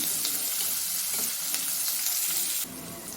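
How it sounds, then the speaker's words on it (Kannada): Onion frying in a pan at home while making corn rice, a steady loud sizzle with bright hissing texture, abruptly dropping in intensity near the end. "ಈಗ ಈರುಳ್ಳಿ ಹಾಕ್ತಾಯಿದ್ದೀನಿ"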